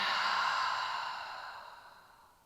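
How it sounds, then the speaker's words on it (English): A deep exhale during a hatha yoga class, one long airy sigh that starts loud and close and fades away over about two seconds, with no talking. "Deep breath."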